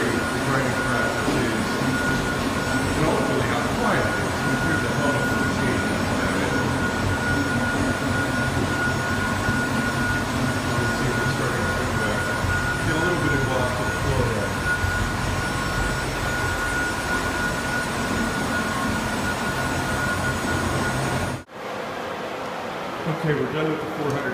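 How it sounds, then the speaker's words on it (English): A concrete floor grinder running a 400 grit resin bond pass indoors produces a loud, continuous roaring whine that holds steady for about twenty seconds, then cuts off abruptly. "Right now we're doing a 400 grit resin bond grind in this room."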